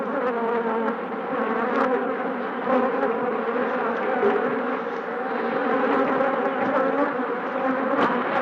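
A swarm of killer bees drones loudly and close, a dense continuous buzzing that holds steady with slight wavering and a few sharper individual passes, no speech.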